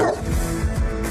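A dog gives a short bark and yip, close and loud, over a busy background.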